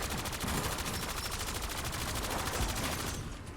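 A SOKOL light machine gun fires on its slow rate in a video game, a continuous fast rhythmic string of loud shots that stops just before the end.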